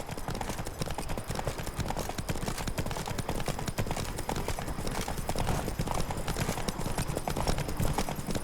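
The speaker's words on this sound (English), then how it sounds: "Whoa there, Roach." Hooves of a horse clip-clopping in The Witcher 3 video game, a dense, continuous patter of trotting footfalls throughout, close and fairly loud, with no talking.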